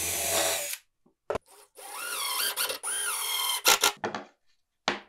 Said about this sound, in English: I can then flip it over and screw it down, after first drilling some pilot holes using a countersink bit.